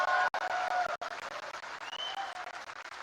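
Audience clapping at a Tiprasa cultural festival in Bangalore: steady, dense applause from a crowd, fairly close and continuous, broken by two brief dropouts, with no speech over it.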